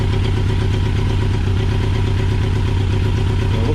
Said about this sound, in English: It looks like this one has it running and idling.